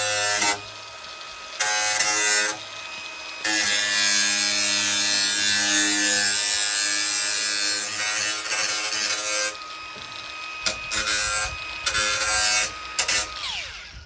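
An angle grinder takes the edges off a cut metal bar, a loud steady high whine running for several seconds at a time, cutting out and restarting in short bursts up close.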